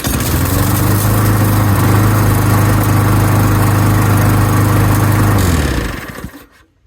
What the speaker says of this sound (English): Sounds like a lawnmower.